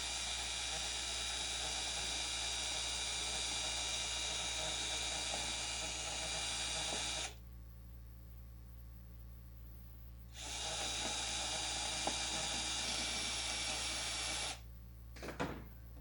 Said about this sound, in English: Drill out the compression side of the rivet just enough to remove the rivet.